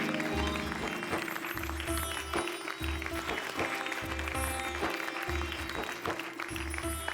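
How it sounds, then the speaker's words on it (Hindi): An audience on a TV sitcom set gives loud applause for Khare Sahab, a fairly full clapping wash over a rhythmic low musical backing that pulses underneath throughout. "भाई ऐसी महान आत्मा के लिए एक बार जोरदार तालियां"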